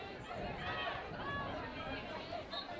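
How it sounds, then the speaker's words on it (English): Spectators at a girls' hockey tournament match, a steady murmur of crowd chatter and scattered calls from near and far, with a continuous hubbub that stays moderate in loudness. "Crowd really becoming vocal and getting involved in this game."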